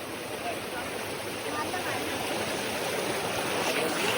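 Forceful stream water rushes through a jungle near Dhareshwar, a broad steady roar of flow that swells slightly over the clip, with a voice faintly present underneath.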